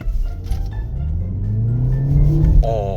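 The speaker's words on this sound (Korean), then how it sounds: "바로 엔진이 개입됩니다." A BMW 530e plug-in hybrid sedan's engine cuts in under hard acceleration while in electric mode, a low rising drone that climbs steadily in pitch for a few seconds inside the cabin, with no talking.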